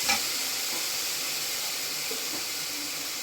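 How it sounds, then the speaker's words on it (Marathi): Finely chopped onion frying in oil over medium heat, a close, even sizzle with a soft stirring scrape near the start, steady throughout with no talk. "आणि कांदा आता आपण छान तेलावर परतून घेणार आहे"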